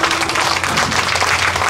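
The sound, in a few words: audience applause at concert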